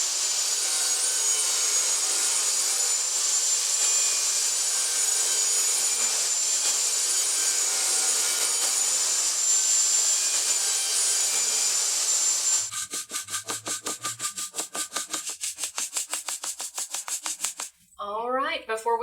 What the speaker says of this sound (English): I'm going to saw this box all the way around on every side to make the lid 1 inch tall